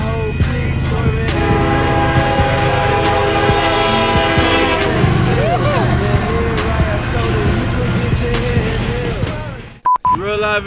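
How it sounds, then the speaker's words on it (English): Moving train passing close by, its horn blaring in long sustained tones before heavy rolling rumble and screeching of wheels take over, ending in a brief dropout and clatter; voices are mixed in. "I was actually running in front of a moving train, baby."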